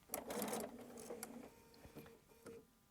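A sewing machine makes a brief, faint run of a few stitches through quilt fabric for a melon-shaped block, then light handling clicks follow.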